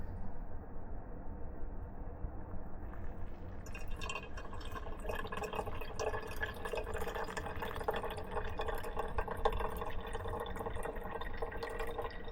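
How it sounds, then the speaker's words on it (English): Hot water poured for pour-over coffee inside a truck camper, a steady close trickle and splash that brightens and fills out partway through as the stream continues, with no talking. "So now the fun part of just pouring the whole cup of coffee."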